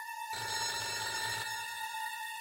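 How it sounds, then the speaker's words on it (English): A telephone rings in a steady electronic trill with a bright tone. It sounds fairly close and plays on its own with no voices, starting after a brief silence. "Oh, I'm getting a phone call."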